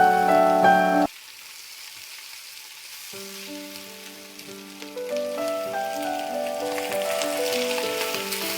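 Green chili paste hits a hot frying pan for a traditional eggplant dish and sizzles with a steady hiss. Music plays prominently over the frying, and the sizzle grows brighter toward the end.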